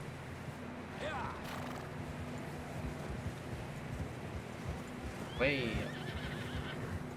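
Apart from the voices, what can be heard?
horses neighing and hooves clopping in a video game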